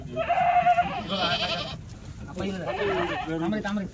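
Kathiawadi goats bleat loudly and nearby at a livestock sale, with two drawn-out calls separated by a short gap while people talk over them.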